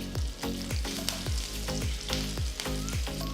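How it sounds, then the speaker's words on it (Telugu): Mustard seeds and two dry red chillies splutter and sizzle in hot tempering oil for a coconut coriander chutney, a loud, close, continuous frying hiss broken by rapid crackles and regular thumping knocks. "ఆవాలు చిటపటలాడిన తర్వాత 2 ఎండుమిరపకాయలు వేస్తున్నాను."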